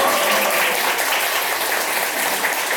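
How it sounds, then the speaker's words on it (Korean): Dense, steady audience applause fills a conference hall at a community collaboration week opening ceremony in Jeju, continuous and loud throughout with no pauses. "이때 박수 쳐주는 거 아닙니까?"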